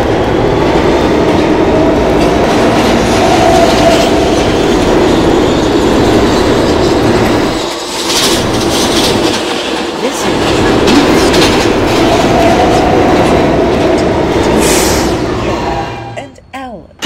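An R160B subway train on the B line runs along the tracks, a loud, continuous rumble and rattling clatter from the wheels, dipping briefly twice mid-run before fading out at the end.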